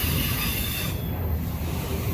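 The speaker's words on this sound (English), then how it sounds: "The front of this train just now went past the defect detector at milepost" A fast freight train passing on railroad tracks, a dense continuous rumble and roar of rolling cars, steady and loud throughout with no pauses.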